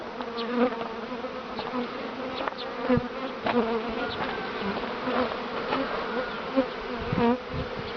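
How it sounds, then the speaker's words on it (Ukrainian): Honey bees being moved into new hives buzz densely and continuously, close up and fairly loud, with individual insects droning past and a few knocks and bumps mixed in. "Ну що, бджілки, вітаю вас з переходами у нову хатинку."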